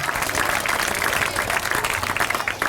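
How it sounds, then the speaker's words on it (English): Close, dense applause from an audience at an outdoor time capsule reveal and groundbreaking ceremony, honoring students with continuous, even clapping throughout. "How about a round of applause for all of our students and student presenters?"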